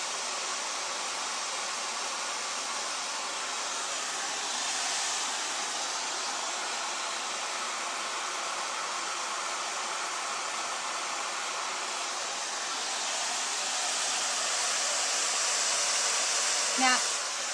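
Hair dryer blowing on long coarse curls, a steady close whooshing hiss that holds throughout with slight swells near the end and no clear talk.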